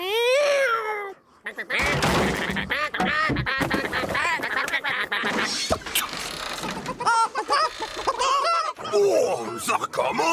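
Cartoon ducks in a barn quacking loudly and repeatedly, with busy overlapping calls, squeaks and background music, alongside animated character voices talking.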